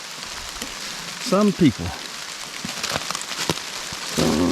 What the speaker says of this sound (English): It's starting to rain pretty heavy right now.